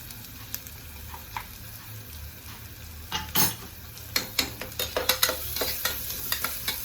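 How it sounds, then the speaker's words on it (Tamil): Ginger, garlic and green chili paste sautéing in a pan, with soft sizzling and a run of sharp spoon-against-pan clinks and scrapes growing busier toward the end, close by. "அரைச்சி வச்சுருக்க ஒரு துண்டு இஞ்சி, ஒரு 4 பூண்டு, ஒரு பச்சை மிளகாய், அந்த விழுதியும் இதோட போட்டு வதக்கிக்கலாம்"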